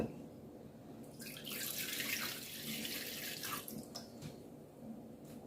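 Warm water pours steadily from a tap into a container for a few seconds while making pizza dough, a soft hissing splash that swells then tapers off, with no talking.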